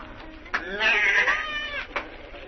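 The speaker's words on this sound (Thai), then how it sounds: "เสียงแพะที่ไหน อ๋อนั่นไง ชายชราไล่ต้อนฝูงแพะ" A single wavering goat bleat, fairly loud and close, rising and falling over about two seconds.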